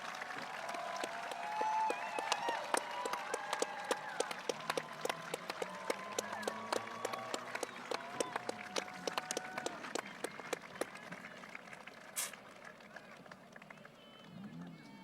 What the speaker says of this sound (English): give them a round of applause because they are with you every step of the way